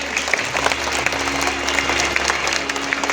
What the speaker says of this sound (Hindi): जिन बच्चों के हाथ में झंडा नहीं है वो जोरदार तालियों से एक बार स्वागत करेंगे